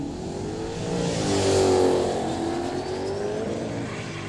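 Datsun 1600 wagon accelerating hard with wheel spin at a street drag event at Kooralbyn Valley, a steady loud engine roar swelling to a peak midway and then easing as it carries on.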